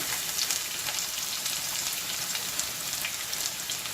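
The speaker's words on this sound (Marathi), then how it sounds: "साधारण अर्धा मिनिट कांदा परतून झाल्यानंतर" Chopped onion sautéing over high heat in a pan for veg red sauce pasta, garlic already in the oil: a steady, dense sizzle and crackle that stays close and even throughout, with no voices.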